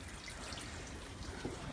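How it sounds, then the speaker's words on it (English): Water pours from a watering can onto an indoor houseplant, a soft continuous trickle and splash at close range, steady and fairly quiet throughout. "So I'm just gonna come in with some water here. Give this guy a nice good drink."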